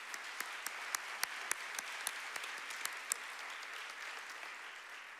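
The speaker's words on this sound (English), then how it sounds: "we'll give them a round of applause" Audience at a spring faith-and-action conference applauding the panelists, a steady wash of clapping with sharp individual claps standing out near the start, thinning slightly toward the end; no voices.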